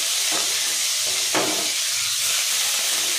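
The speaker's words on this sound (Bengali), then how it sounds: "তেজপাতা আর কালো জিরে ফোড়ন দিয়ে পেঁয়াজগুলো লাল লাল করে ভেজে নেব।" Onions frying in a little oil with bay leaf and nigella seeds for a fish curry, giving a steady close hiss and sizzle with a couple of brief stirring scrapes.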